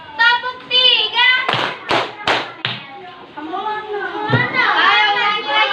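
A group of children in a classroom clap three times together in a quick even rhythm, loud and close, surrounded by high children's voices and an adult speaking before and after the claps.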